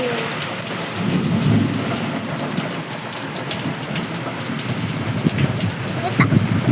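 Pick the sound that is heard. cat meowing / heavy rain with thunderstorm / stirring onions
heavy rain with thunderstorm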